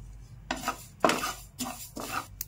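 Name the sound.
dry roasting sesame seeds in a pan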